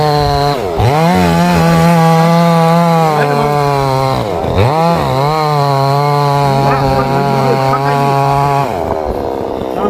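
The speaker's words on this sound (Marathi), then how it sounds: "आणि खाली मशीनने कटिंग चालू आहे." A chainsaw cuts down a silk cotton (shevari) tree, its engine droning loud and steady close by for the whole stretch, with brief dips where the load changes.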